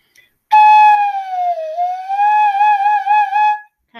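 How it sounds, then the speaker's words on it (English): A flute played like a slide whistle with a finger in the end produces a loud, pure sliding tone that dips, rises and wavers for about three seconds before stopping. "you can stick your finger in the end and make it kind of like a slide whistle."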